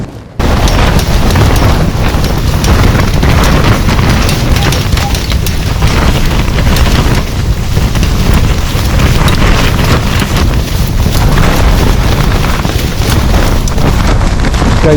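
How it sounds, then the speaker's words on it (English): Gale-force wind batters a tent on a Christmas Day wild camp, a loud, continuous roar and buffeting that swamps the microphone for the whole stretch. "it's blowing a gale out there"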